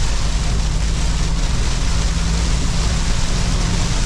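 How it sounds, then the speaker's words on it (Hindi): Heavy rain drums steadily on a Bolero driving along a village road in a storm, a dense, constant wash of noise with a low engine rumble beneath and no voices. "इतनी भयंकर बारिश है।"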